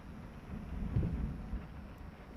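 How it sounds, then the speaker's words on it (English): Thunder in the horror game Layers of Fear rolls as a low, muffled rumble that swells and fades over about two seconds, fairly faint and distant, with a soft wash of rain or wind around it and no voices. "Can the thunder stop thundering?"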